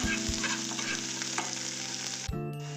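Mustard seeds, crushed ginger, garlic, coconut and coriander sizzle steadily in hot oil for a bitter gourd stir-fry, with a spoon stirring and scraping the pan close by; a brief clatter near the end, no talking.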